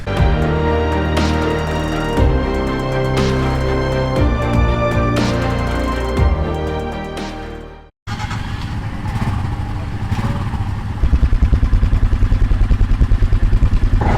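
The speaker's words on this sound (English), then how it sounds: "all the guys are getting their bikes prepped and fired up for today's ride" Motorcycles being readied for a morning ride toward New Tingri in Tibet, with clattering engine noise and idling up close, then after a break a rougher, louder running engine with a rhythmic pulse. No one speaks.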